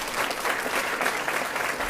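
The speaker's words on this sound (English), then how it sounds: "Let's give them all a nice round of applause." Applause fills the room at an elementary school ribbon cutting ceremony, a steady, dense clapping from a crowd that holds at an even level throughout without any voices over it.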